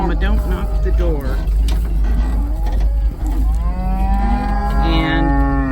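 Cattle moo loudly and repeatedly at close range on a farm, long drawn-out bellows overlapping one another, with a person talking in between and a steady low rumble of wind or engine noise underneath.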